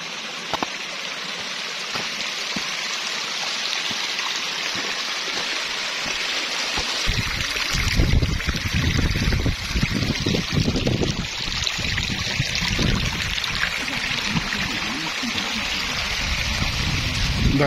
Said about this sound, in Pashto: دغه د ابشار ځای دی